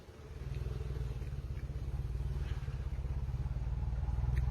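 A car backs out of a driveway, its engine giving a steady pulsing low rumble that slowly grows a little louder, heard from a short distance with no voices.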